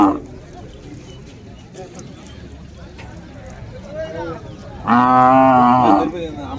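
Cattle and calves at a Tiruppattur district cattle market, with one loud, close moo standing out near the end. Livestock noise runs underneath and people talk throughout.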